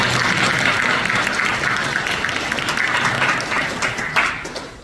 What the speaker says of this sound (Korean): 우리 시간 옆에 계신 분들 위해서 잠시 박수할까요?